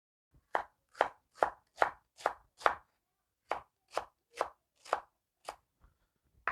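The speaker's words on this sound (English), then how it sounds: "And then we'll slice some onions. Julienne." Onions being julienne sliced with a knife on a board, a run of crisp, evenly spaced chops, then a short pause before a second run that tapers off, close and clear with no voices.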